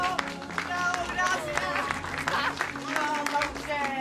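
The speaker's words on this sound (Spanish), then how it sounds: "un aplauso para los novios" Guests at a wedding celebration clap for the newlyweds, a lively burst of applause mixed with cheering voices and chatter throughout, fairly close and dense.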